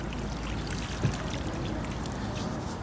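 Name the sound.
water poured into a well around a newly planted viburnum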